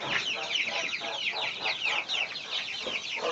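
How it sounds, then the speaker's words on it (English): Coturnix quail call in a dense, continuous chorus of chattering, clucking notes from many birds close by, with no break over the whole stretch. "these are the quail, like the quail of the Bible"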